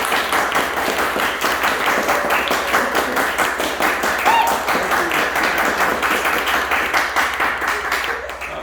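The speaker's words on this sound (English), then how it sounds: "you can clap." Students clapping in a geometry classroom, a steady patter of many hands at moderate loudness that tapers off at the end, with faint voices underneath.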